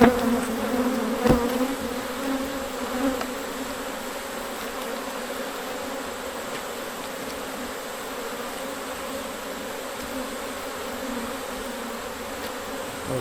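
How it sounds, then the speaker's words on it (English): Steady, dense buzzing of many honeybees close by, a continuous hum swarming around the hive with no voices. "I've got to get some bees out of the way"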